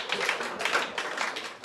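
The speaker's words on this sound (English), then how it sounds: "clap it up for Gracie," Comedy club audience at Asylum NYC clapping for comedian Gracie, a dense, steady patter of many hands applauding together for under two seconds.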